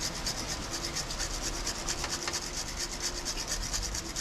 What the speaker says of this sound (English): I'll take my little steel brush and just get most of this dirt off